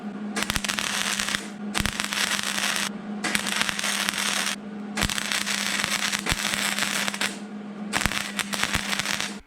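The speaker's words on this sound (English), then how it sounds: "And also while you're welding," A welder lays beads on the steel rocker panel of a Mercury Sable station wagon, with repeated stretches of loud crackling and sizzling arc broken by short pauses.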